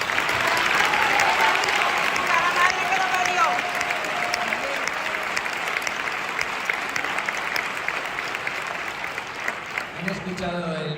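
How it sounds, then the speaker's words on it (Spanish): Sustained audience applause fills the room at a testimony event, dense and steady throughout, with voices rising faintly near the end. "Dani, todos estos aplausos son para ti"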